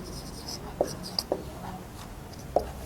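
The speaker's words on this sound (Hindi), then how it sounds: "मुश्किल अल्फाज के मानी हम आपके सामने यहां पर लिखते हैं" Marker or chalk writing on a classroom board, a few short squeaky strokes and light taps spaced irregularly, close and fairly quiet.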